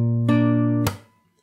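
A fingerstyle acoustic guitar lick from a song: a plucked low note and a chord ring briefly, then one sharp percussive slap across the strings cuts them off and the sound quickly dies away.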